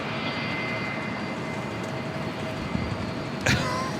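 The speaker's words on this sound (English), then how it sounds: "We also have a DHL Polar Air Cargo Flight 962 coming in from Tokyo to Narita. It's a 777 today." DHL Polar Air Cargo Boeing 777 arriving at LAX, a moderate, steady jet hum with a faint tonal whine, plus a brief sharp knock near the end.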